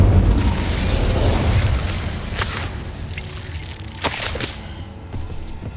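Incendio fire spell cast in the Hogwarts Legacy video game, a loud rumbling whoosh of flame with sharp bursts near the end, continuous and close.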